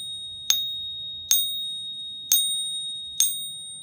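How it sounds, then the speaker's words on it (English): Four clean, bright metallic pings from a stack stick tapping a coin, each struck separately with a short ringing decay, spaced about a second apart in a quiet setting. "it gets a nice clean ping out of it"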